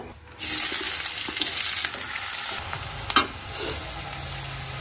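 Dried fish (shutki) hits hot oil and fries with a sudden loud sizzle, then crackles on steadily while a utensil scrapes and stirs it, with a couple of sharper clinks.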